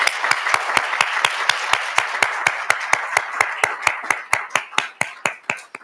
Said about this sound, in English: So let's give all three of our contestant teams a round of applause.